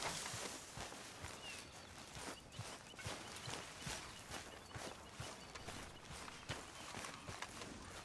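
Horse hooves clop in Red Dead Redemption II, a steady rhythm of soft hoofbeats over faint background noise, quiet throughout.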